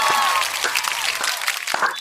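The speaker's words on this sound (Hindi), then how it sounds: "ठोको ताली" An audience at a comedy roast show claps in a short, scattered burst, with uneven individual claps rather than a full ovation, brief and moderately loud.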